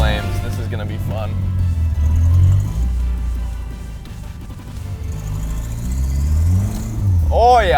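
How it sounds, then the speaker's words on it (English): A home-built turbocharged Toyota Celica engine revs and rumbles loudly with sharp crackling pops from the exhaust, building and easing across the clip. "The exhaust crackles and probably shoots flames."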